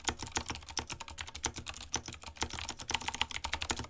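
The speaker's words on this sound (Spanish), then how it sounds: "Qué teclado raro igual, amigo. Muy raro, pero lindo." Fast typing on an unusual computer keyboard with a bright, high-pitched sound, a dense stream of close, sharp key clicks with no talk.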